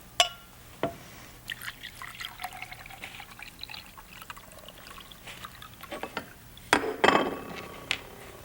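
Water poured into a glass until it is full, a close trickle with scattered drips and light glassy clinks that swells near the end, with no talk.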